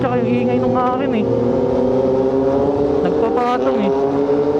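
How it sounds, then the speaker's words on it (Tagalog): Several big motorcycles, including a Kawasaki Z900RS, Honda CB650R and Kawasaki ZX6R, rumble loudly and steadily together on a group ride, engine drone rising and shifting pitch as voices talk over it. "Mayanig yung tunog sa tenga ko eh, yung ingay ng motor niya tsaka yung ingay ng akin eh."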